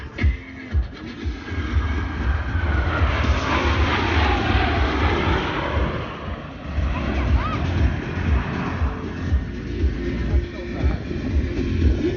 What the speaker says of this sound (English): from the right at 400 miles per hour, the 5-plane line abreast flat pass